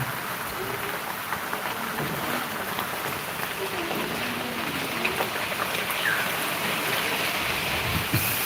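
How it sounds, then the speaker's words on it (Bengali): Rain falling steadily outdoors by a flooded pond, a constant soft patter and hiss with faint scattered drips, moderately near, under occasional low background murmur. "এখনও বৃষ্টি পড়ছে"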